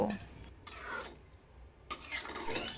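A spoon scrapes and stirs beef biryani with basmati rice and fried potatoes in a pot. There are several close, rasping strokes with brief pauses between them, and nobody speaks.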